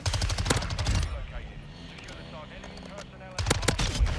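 Rapid bursts of MX9 submachine gun fire in Modern Warfare II, loud and close, with a dense rattle at the start and again near the end around a quieter gap, while a voice talks over it.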